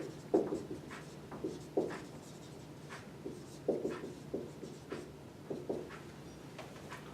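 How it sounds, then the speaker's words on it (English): Pen or pencil writing by hand during a math lesson makes soft, close scratching strokes in a steady rhythm of short taps and scrapes under a faint background hiss. "let me write somewhere"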